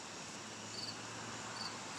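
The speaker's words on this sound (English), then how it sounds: "We got crickets in the background" Crickets chirp in a steady, faint background drone at night, a soft continuous trill with no voices over it.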